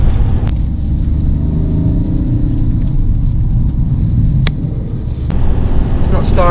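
A remapped Audi A2 with a 1.4 TDI diesel engine pulls away at full throttle, a loud, steady in-cabin rumble and drone that builds evenly, with a brief dip in the middle.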